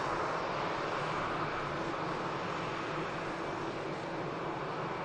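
An aircraft departs from runway 23 left at Manchester Airport, producing a broad, steady jet roar heard from a distance at moderate loudness.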